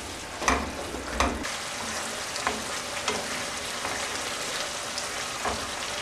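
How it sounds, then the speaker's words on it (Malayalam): Pineapple pickle with vinegar sizzles in a pan under a spoon that scrapes and stirs, giving a few sharp clacks early on over a continuous crackling fry. "അത് ഇതിനകത്ത് ചേർത്ത് നന്നായിട്ട് മിക്സ് ചെയ്ത് കൊടുക്കാം"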